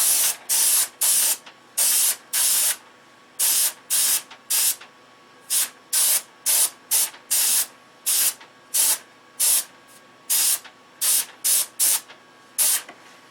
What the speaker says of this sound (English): So we got that masked off. Let's spray her up.